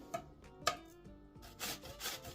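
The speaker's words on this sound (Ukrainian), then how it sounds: "у нас кабачок молоденький і натираємо на будь-якій терці" Young zucchini rubbed against a kitchen grater: quiet, uneven rasping strokes, a few short scrapes followed by longer, denser shredding passes close up.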